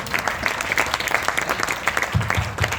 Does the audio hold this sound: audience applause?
yes